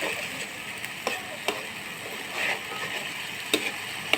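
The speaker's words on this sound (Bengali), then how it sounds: "এখন একটু ভালোভাবে মশলাটা কষিয়ে যাক" Spice paste (masala) frying in a pan for a hilsa fish dish, a steady soft sizzle with scattered ticks and clinks of stirring, close and moderately quiet.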